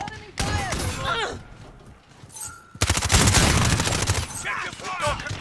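Gunfire from Call of Duty: Modern Warfare: scattered shots under radio-style voice callouts, then a loud, dense burst of rapid automatic fire, followed by more shots mixed with talk.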